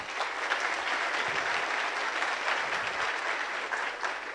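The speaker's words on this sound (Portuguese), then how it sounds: "Vamos dar uma salva de palmas pro Leque." A round of applause from a seminar audience, continuous dense clapping from many people at moderate distance, steady throughout with no speech over it.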